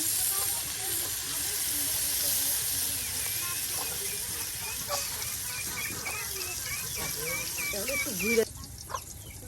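Food fries in hot oil in a village kitchen, a steady sizzling hiss that continues throughout, with people talking over it and a brief clatter near the end.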